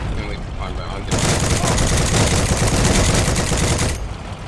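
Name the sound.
gunfire and a bullet flying overhead in the video game Heroes and Generals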